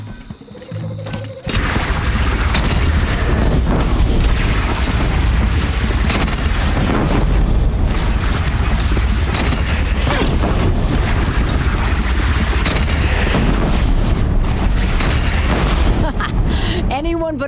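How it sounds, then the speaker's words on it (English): Cannon fire and battle noise from the video game Horizon Zero Dawn: after a brief quiet start comes a dense, continuous barrage of loud booms and crashes, with voices shouting over the din. "They only have one cannon!"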